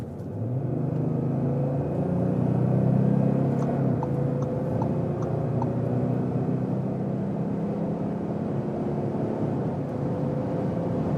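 Inside an Audi S4 with the 3-liter diesel of the European version, a strong, steady engine drone and road rumble builds and holds as the car pulls hard at speed, heard continuously from the cabin with no talk.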